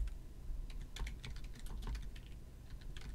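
Rapid typing on a computer keyboard, with close, steady key clicks tapping out in an uneven rhythm and no voices.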